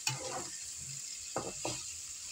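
Cauliflower fries in a pan with a faint, even sizzle throughout, broken by a few short scraping stirs near the end, quiet and close.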